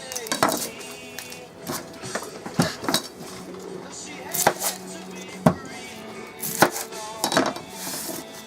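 A knife chopping a medium onion on a cutting board, irregular sharp taps and clinks at close range, with faint background music and some kitchen clatter.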